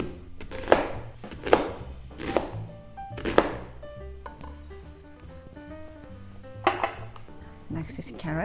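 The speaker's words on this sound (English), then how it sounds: "Let's cut the vegetables in big bite sizes." A knife chops onion into big bite-size pieces on a board: several crisp, fairly loud knocks at uneven intervals, with a gap in the middle, over soft background music.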